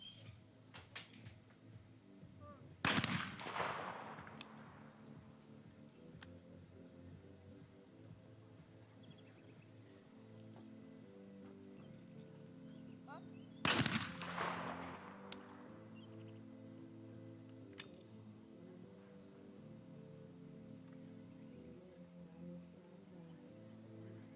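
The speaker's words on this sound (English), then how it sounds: "the athletes are doing some test fire" Two shotgun test shots at a women's trap shooting championship final in Osijek, Croatia, each a sharp report with a short decaying tail, about eleven seconds apart over a quiet outdoor background.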